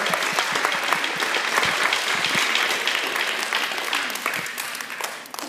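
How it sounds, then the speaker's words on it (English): A round of warm applause from a gathered audience at an art and education event, dense, even clapping that fills the room and fades slightly toward the end. "Let us give ourselves a round of warm applause"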